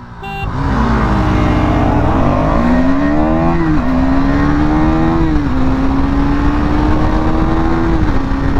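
Two KTM motorcycles, a Duke 250 and a Duke 200, accelerate hard from a standing drag-race start, their loud engines climbing through the gears in a continuous rising whine that stays close and unbroken for the whole stretch.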